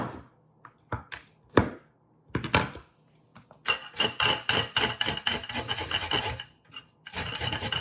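A knife chops tomato on a board in a home kitchen, with a few scattered cuts at first and then a rapid, steady run of crisp, close, loud strikes.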